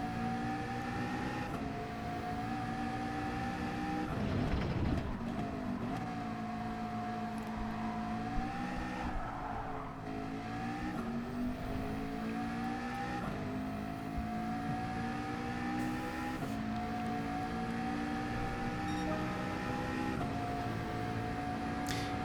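Race car engine in Gran Turismo 7 during a daily online race, a sustained droning whine that rises through the gears, drops briefly at each shift and climbs again, steady throughout.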